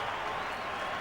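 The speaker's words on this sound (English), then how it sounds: "The crowd applaud his contribution." A football stadium crowd applauds a substituted player, producing dense, sustained clapping that fills the whole brief moment without a break.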